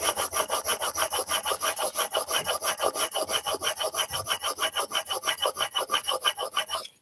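A blade edge is honed on a Rider sharpening station with steady back-and-forth abrasive strokes, about five per second, a close, even rasping scrape with no talk.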